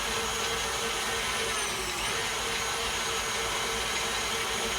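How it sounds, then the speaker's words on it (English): An electric mixer creams butter for a lemon pound cake, giving a steady, loud motor whir that holds unbroken for the whole stretch with no talking. "And we're gonna cream the butter."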